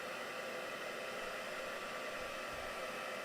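Heat tool blowing steadily over gel medium on a canvas, a constant close airy whoosh with a faint motor hum running unbroken throughout.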